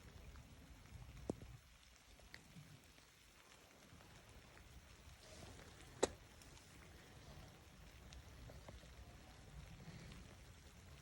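Steady rain falling in nasty weather at the start of a pike fishing outing, a constant broadband hiss with a few faint knocks and one sharp tap, no voices.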